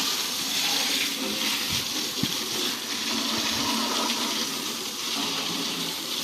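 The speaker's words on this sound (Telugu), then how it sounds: "ఇట్లా వాటర్ వాష్ చేస్తున్నాం" A tractor being water-washed during an oil filter change, with a strong, continuous gushing hiss of spraying water at close range. A few dull knocks sound under it, and there is no talk.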